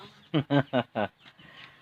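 Chicken clucking outdoors at a rural Thai home: four quick, fairly loud clucks in a row, then faint softer sounds and background noise.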